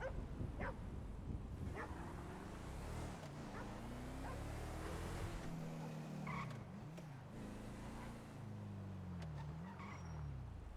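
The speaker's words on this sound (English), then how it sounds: "Oh my god, a lady has her dog!" Dog barking in a role-play video game, a few sharp yips rising over a steady engine-like drone, road noise and other game sounds, with no talk.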